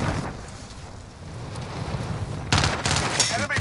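Gunfire in a multiplayer shooter video game, a dense crackling burst of rapid shots that gets louder and sharper in the last second, alone without talk.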